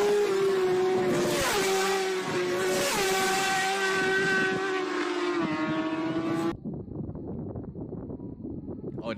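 A Kawasaki H2R motorcycle screams past at top speed, its high engine whine rising and then falling in pitch as it passes close. The roar cuts off abruptly and gives way to a quieter, rougher background.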